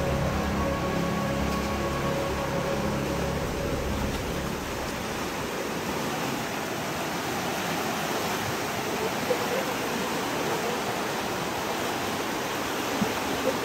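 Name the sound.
stream water flowing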